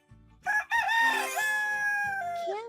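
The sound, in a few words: rooster crowing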